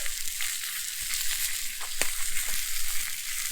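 Pepperidge Farm buns torn open and laid in hot butter on a Blackstone griddle, a steady close sizzle and crackle with scattered soft knocks and scrapes, no talk.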